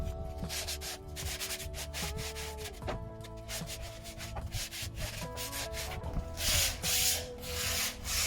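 Sanding the back of a shiplap wood edge smooth, rhythmic close rubbing and scraping strokes repeating throughout, heard alone against a background of music.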